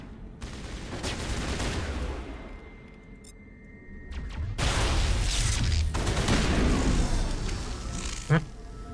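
Rifle gunfire in a video game, dense bursts of shots packed closely together, loud and continuous for most of the stretch, with a brief lull near the middle and a sharp final crack near the end, mixed with game ambience and voices.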